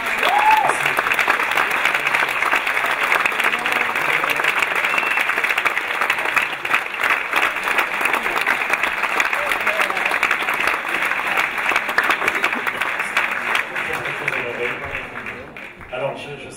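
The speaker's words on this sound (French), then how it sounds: "Je voudrais qu'on applaudisse très fort" A theater audience at an evening show gives long, loud, sustained applause with a light crowd murmur underneath. The clapping holds steady for many seconds, then tapers off near the end.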